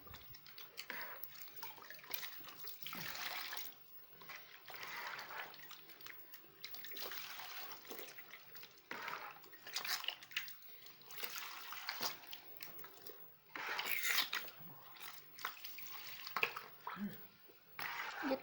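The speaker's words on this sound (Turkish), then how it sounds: "Şimdi de artık şöyle bolca suyun içinde yıkayacağız." Homemade butter being washed by hand in plenty of water in a bowl, with soft repeated sloshing and splashing in irregular bursts, faint and close, with a voice speaking now and then.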